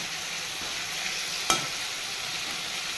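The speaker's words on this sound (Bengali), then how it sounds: "এই দু তিন মিনিট মতো এরকম কষাতে থাকবো" Paneer curry with carrot and potato being sautéed in a pan gives a steady, soft hiss of frying, broken by one sharp scrape or clack of the stirring spoon partway through.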